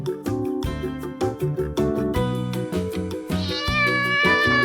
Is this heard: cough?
no